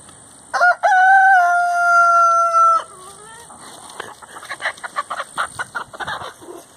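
A backyard rooster crows loudly once up close, a long drawn-out call, followed by a scatter of short, rapid chicken clucks and chatter from the flock nearby.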